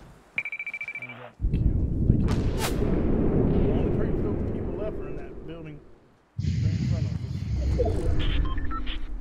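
Video game gunfire and sniper shots come as loud, booming bursts close by, broken by a brief pause. Players talk over them throughout.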